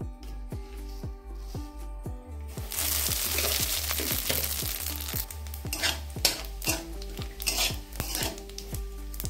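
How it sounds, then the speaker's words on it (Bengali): Hot oil bursts into a sudden loud sizzle partway through as spice seeds are added, continuing steadily while a spoon repeatedly scrapes and clinks against the pan. "রাঁধুনিটা 30 সেকেন্ড ভেজে নিয়েছি।"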